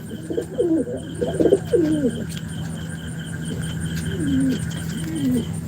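Native-breed domestic pigeons coo in soft, rolling phrases, several calls in a row, over a steady low hum and faint insect chirping in the background.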